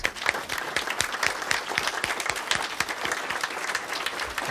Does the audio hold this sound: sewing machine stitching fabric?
no